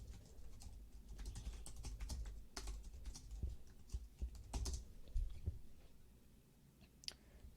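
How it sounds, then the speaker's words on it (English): Fingers type on a computer keyboard, producing quiet, close, irregular key clicks in short runs with brief pauses, faint and with no talk over them. "they can type it here."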